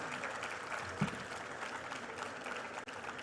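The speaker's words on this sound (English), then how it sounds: "Let's give a huge round of applause to Ms. Fatima Agarkar" Steady audience applause at an ASPEE Nutan Academy school event honoring Ms. Fatima Agarkar, a continuous moderate clapping from a hall crowd heard somewhat distantly.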